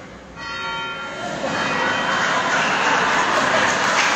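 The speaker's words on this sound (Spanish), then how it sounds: "ahora van a ser dos campanas" Church bells ring loudly and continuously, their overlapping tones blending into a dense, reverberant wash after a brief quieter start.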